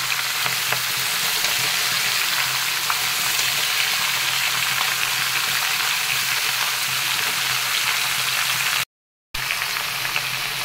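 Chopped bottle gourd fries in a pan with a hilsa fish head, giving a steady, close crackling sizzle at an even volume, with a brief silent gap near the end.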